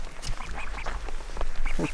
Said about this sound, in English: Hopefully the ducks don't swarm us again.